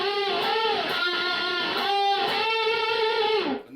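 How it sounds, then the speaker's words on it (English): An electric guitar plays a lick in A built on unison bends, its notes rising and wavering as the strings are pushed, with a sustained, distorted tone heard alone and fairly loud. "So the whole thing sounds like this."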